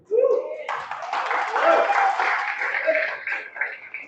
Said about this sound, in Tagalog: Salamat sa mga pumapalakpak.